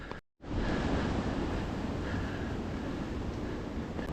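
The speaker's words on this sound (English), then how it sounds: "you might be able to hear it's got very breezy all of a sudden" Strong, steady wind gusts roar across a microphone on the cloud-forest summit of Mombacho volcano in Nicaragua. A broad, continuous rush fills the clip after a brief dropout near the start.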